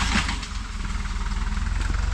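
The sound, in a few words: truck engine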